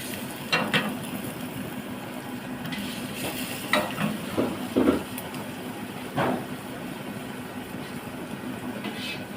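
Pasta ingredients frying in a pan as they turn lightly brown, giving a steady low sizzle with a few brief louder stirring scrapes.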